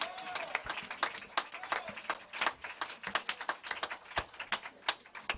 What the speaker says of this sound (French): Monsieur Axel Daché, on peut l'applaudir.